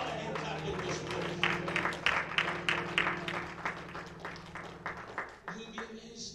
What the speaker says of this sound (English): let's give the Lord a hand clap in this place